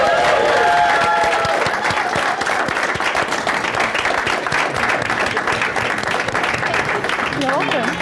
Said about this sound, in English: Everyone, if we can give them a big round of applause just once more.